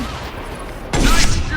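A burst of gunfire from the video game Mass Effect 2 erupts loudly after a quieter stretch, mixed with a voice and game sounds.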